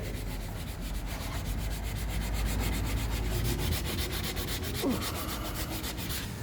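A steady, broadband rubbing hiss of a bare hand sweeping back and forth across a varnished wooden surface during restoration, continuous and close, with no talking.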